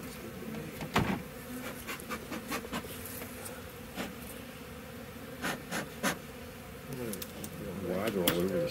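Honey bees buzz around a beekeeper during the installation of nucs beside a smoker, a steady insect drone with brief louder passes of individual bees close by, and quiet voices under it.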